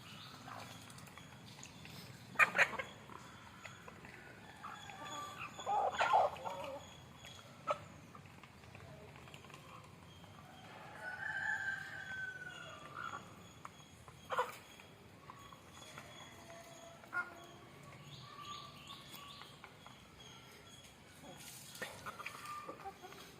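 Country chickens clucking in scattered, short bursts at moderate distance, with an occasional louder squawk or crow breaking through soft background noise and intermittent voices.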